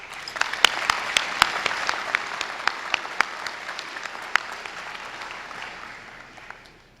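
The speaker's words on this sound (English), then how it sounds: "This is where you applaud." A crowd applauds throughout a Liberty High School graduation ceremony for the class of 2019, with steady clapping that has sharp individual claps standing out before it slowly tapers off near the end.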